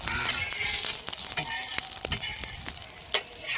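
A half-boiled egg frying in oil in a pan, a constant close sizzle with scattered sharp crackles and spatter pops throughout, no talking.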